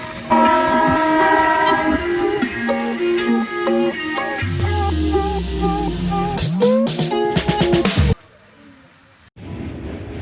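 Passenger train from Asansol to Ayodhya, heard from aboard: a loud, sustained horn with harmonic tones over rumbling wheels and carriage noise, then a sudden drop to quieter running.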